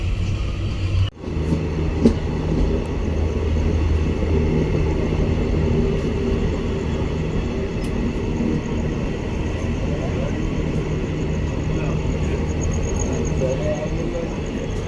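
Steady rumble inside a moving passenger train, a constant loud rattle and drone with a sharp clunk near the start, continuing unbroken with no voices.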